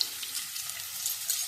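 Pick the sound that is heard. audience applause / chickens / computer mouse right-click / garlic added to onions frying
garlic added to onions frying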